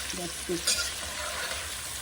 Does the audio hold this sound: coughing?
no